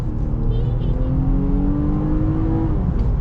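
A 2023 Nissan Pathfinder Rock Creek Edition driving on the road, its steady engine drone and cabin road noise heard from inside, with a faint tone rising slowly as the SUV gathers speed.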